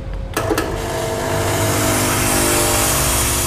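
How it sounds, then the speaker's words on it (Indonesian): The steam wand on a Gemilai CRM 3018 espresso machine, set to full pressure, bursts into a loud, steady hiss close by after a short click, with the rush of steam holding constant to the end. "kalau kita mau lebih pressure-nya lebih kencang lagi, kita bisa tekan tombolnya dan kita steam."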